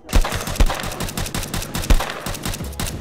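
Rapid automatic gunfire with armour-piercing rounds in the online shooter Will to Live Online, a loud, dense burst of shots in quick rhythm.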